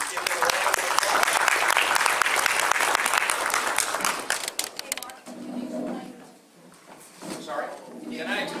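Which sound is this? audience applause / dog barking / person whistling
audience applause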